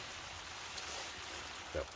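Heavy rain pours steadily onto a hot tent while wild camping in Scotland, a dense continuous hiss with a single brief louder patter near the end.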